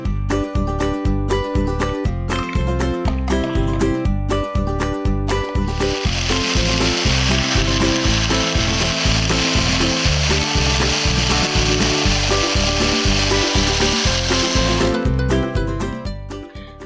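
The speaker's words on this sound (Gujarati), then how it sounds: "અને આપણે મિક્સર જારમાં ક્રશ કરી દઈશું બધું." A mixer grinder jar crushes muskmelon with a few ice cubes, a loud, steady whirring grind with rapid rattling clatter throughout that tapers off at the very end.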